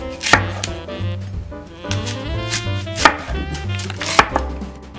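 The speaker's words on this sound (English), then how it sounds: "Up next, we're gonna cut both green and red apples," Knife chopping through green and red apples on a cutting board, a series of sharp, close thuds at irregular intervals over a steady background hum.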